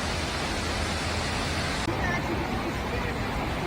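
Artificial waterfall on Hongjecheon stream in Seodaemun-gu, Seoul: a loud, steady, broadband rush of falling water fills the scene without pause, with faint crowd murmur beneath it.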